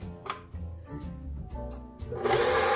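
An electric mixer whirs at medium speed, beating egg whites for berry cupcakes. The motor hum wavers with a faint rhythmic grind, then swells into a louder, brighter whirring near the end.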